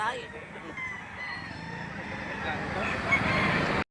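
Roosters crow over a busy crowd at a chicken market in Lipa City, Batangas, with steady murmur and voices throughout and a couple of crows rising above the din.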